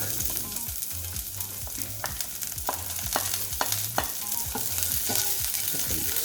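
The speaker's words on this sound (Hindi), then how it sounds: "थोड़ा सा तेल ले लेते हैं और इसमें डाल देते हैं इस तरह से। इसमें ऐड करेंगे हम जिंजर, और गार्लिक" Ginger and garlic fry in hot oil in a pan for a baby corn chilli dish, giving a continuous close hiss with regular stirring knocks and a low musical tone underneath.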